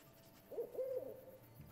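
A game owl from Endling: Extinction is Forever gives two soft, hollow hoots in quick succession, moderately near, over a quiet ambient background with no talk.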